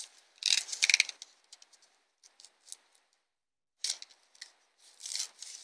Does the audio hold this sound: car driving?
no